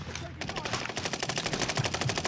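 Rapid automatic gunfire in Call of Duty: Warzone Pacific, a steady burst of evenly spaced shots running through the whole moment, close and continuous.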